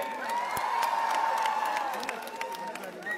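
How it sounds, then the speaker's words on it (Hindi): Crowd at a university birthday celebration applauding and cheering for Digvijay, a broad wash of clapping with shouts and whoops, fairly close and sustained. "तो एक बार जोरदार ताली दिग्विजय भाई के लिए"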